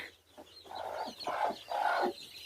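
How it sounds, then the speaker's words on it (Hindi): A village hen clucking in a few drawn-out, throaty calls, with faint high peeping from her chicks behind, close by and fairly quiet. "वो मुर्गी अपने चूजों को लेके छुप गई है।"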